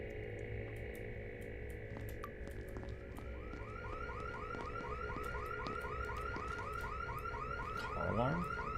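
A video game car alarm whoops in a steady cycling pattern, looping rising and falling electronic tones that repeat continuously at moderate level with no voices.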